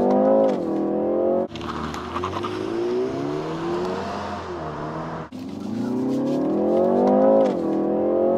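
A BMW G21 3 Series estate with reduced traction control pulls hard out of a junction, its engine revving up loudly through two rising gear pulls with a brief shift break, close and dominant.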